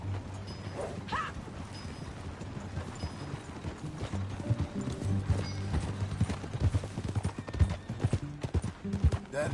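A horse gallops in a PS4 video game, its hooves clip-clopping in a steady, close rhythm that builds in loudness, with a brief whinny near the start over a low background rumble.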